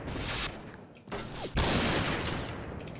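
Rapid gunfire bursts in the Point Blank video game, loud and dense, with a brief lull in the middle before another sustained volley.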